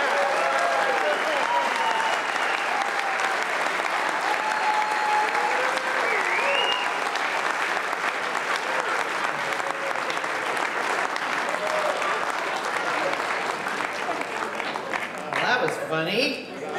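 Sustained audience applause fills a room at a farewell party, a dense, loud wall of clapping with cheers and crowd voices mixed in, lasting throughout before tapering at the end.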